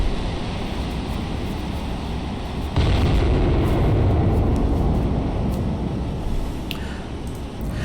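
Main battery guns of the battleship Iowa firing in the naval combat game Cold Waters: a heavy, continuous booming rumble that swells sharply louder partway through and stays dense and loud to the end.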